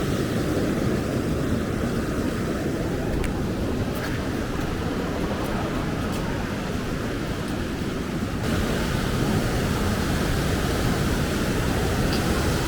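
Loud creek rushing beside a Mount Hood trail, a constant broadband roar of churning water that fills the whole stretch without letting up.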